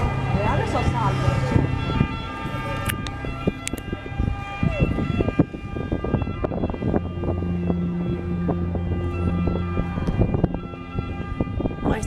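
A fire truck siren wails steadily as firefighters arrive at a burning apartment, loud and continuous with rumbling engine and street noise beneath it.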